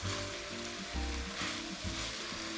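Onions browning in a frying pan for traditional French onion soup give a steady close sizzle with soft stirring scrapes, no voices over it.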